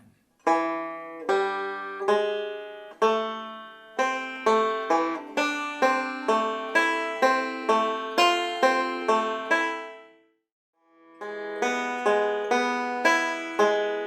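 Bright banjo picking a rising melody in quick rolling notes, close and clear, with a short pause before the pattern resumes.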